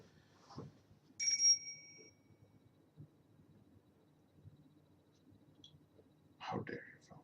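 A short high electronic tone from a phone rings out once, bright and clear against a quiet room, with soft murmured speech before and after it.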